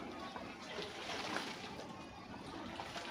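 Water sloshing and splashing in a tub during hand-washing of clothes, with a small water-heavy blanket being wrung out and the tub refilled; a steady, fairly faint wash of water noise throughout with no pauses.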